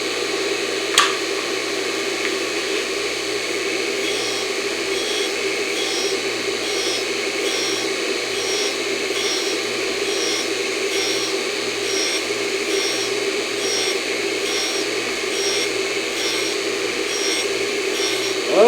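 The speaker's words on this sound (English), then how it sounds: "I'm talking about one of these right here. Cold air gun. They're a really good thing to have on a grinder or a mill." A cold air gun blows a steady, loud hissing stream of chilled air onto a metal block on a surface grinder, an even whooshing drone lasting the whole stretch with faint machine hum underneath and no talk.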